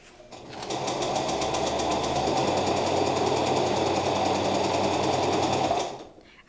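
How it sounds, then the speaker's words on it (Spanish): A sewing machine stitches a straight seam and zigzag along trouser legs, a loud close rapid mechanical whir that starts up, runs at steady speed for about five seconds, then stops. "vamos a pasar una costura recta a todo lo largo de las piernas y su zigzag"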